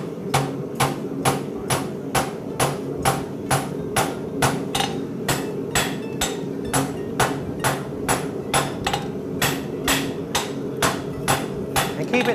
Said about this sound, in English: You got to get this straight so it lays flat on the anvil so your steel doesn't run away from you.